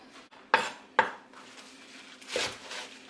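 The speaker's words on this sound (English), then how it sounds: "Just gonna give the shado beni a rough chop" Two sharp knife strikes on a cutting board roughly chopping shado beni (culantro), then a softer scraping chop, close by with quiet kitchen background.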